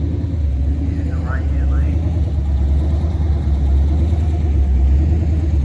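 Cars in the 12.5 class roll into a grassroots racing event at Speed Week in Detroit. Their engines make a low, steady rumble beneath an ongoing commentary voice.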